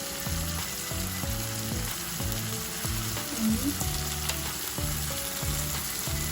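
Masala frying in a pan for chicken masala, a constant close sizzle with a rhythmic low clatter from stirring running through it, no talk.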